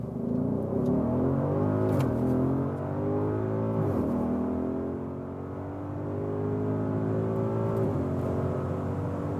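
Audi SQ8 or SQ7 with a V8 petrol engine accelerating hard, its heard from inside as a loud, rising engine roar that climbs through the gears, dipping briefly at each shift before pulling up again.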